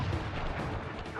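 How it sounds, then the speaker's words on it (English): A burst of fire-based firework in Sly Cooper booms and crackles in a dense, noisy blast, loud and close, fading quickly over about a second. "I will send you to your doom with the beauty of my new firework technique"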